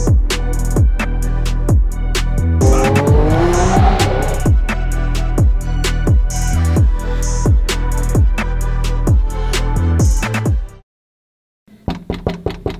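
A sports car, one of three Lamborghinis and a McLaren, revs hard and accelerates with loud repeated engine pulls and gear-shift surges, then cuts off briefly before a short burst of revving resumes.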